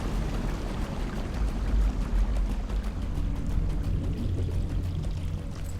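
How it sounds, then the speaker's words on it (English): Rushing roar of the Great Waterfall at Durin's Beard in the online game The Lord of the Rings Online, a loud, steady broadband wash of falling water with deep low rumble, continuous and with no talk. "The Great Waterfall."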